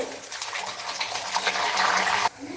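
A radish kachori dropped into hot oil, a loud continuous bubbling sizzle that holds steady for a couple of seconds before cutting down abruptly.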